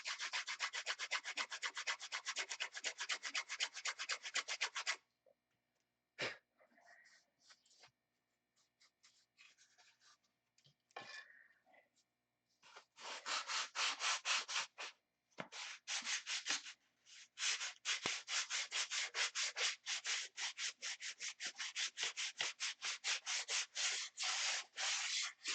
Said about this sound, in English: until we get this other piece glued on and sand them both to the same shape.